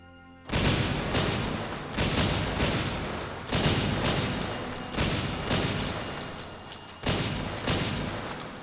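Gunfire from the video game Hidden and Dangerous 2: repeated bursts of loud, dense shooting, each starting sharply and trailing off, separated by short gaps.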